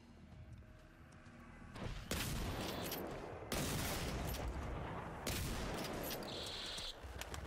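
Sniper rifle shots fired in the video game Generation Zero: several loud, sharp blasts, each followed by a long rolling rumble, coming in quick succession over steady background noise.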